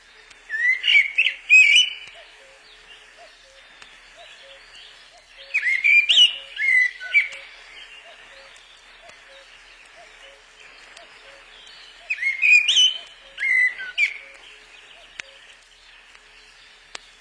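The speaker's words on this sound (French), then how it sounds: "Le merle est un des derniers à chanter." A blackbird sings at dusk in three separate fluting, warbling phrases with long quiet pauses between them, clear and moderately close against a still, hushed background.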